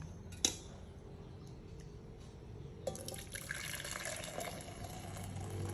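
Karak tea with cardamom poured through a strainer into a container, a soft continuous liquid trickle and patter that thickens after a couple of seconds, close and quiet, with no voices.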